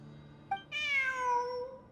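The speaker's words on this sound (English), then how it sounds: "Look! A cat!" A cat meows in the video game Genshin Impact, a short chirp followed by one long, clear, drawn-out meow over quiet ambient game sound, with no talking.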